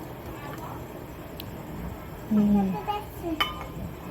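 Dishes and pots clink and knock together in a home kitchen as someone puts away vessels after a meal, a few close clatters over a low background hum, with speech nearby.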